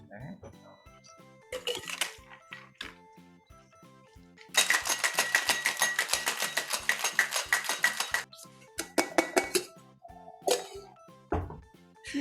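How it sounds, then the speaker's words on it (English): Bar spoon clinking and rattling against a glass while stirring a cocktail of Genever, simple syrup and bitters, with a dense burst of quick metallic ticks in the middle amid scattered knocks and clatter, near and fairly loud. "I'm going to do a 1/2 ounce of simple and some bitters and just stir it in the glass."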